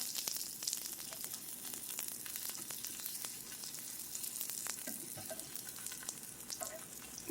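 Zucchini slices sizzle and brown in a hot pan, a continuous soft crackling hiss with scattered sharper pops, close and alone without talk.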